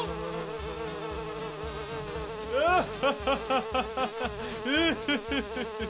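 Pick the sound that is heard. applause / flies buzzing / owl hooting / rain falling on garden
flies buzzing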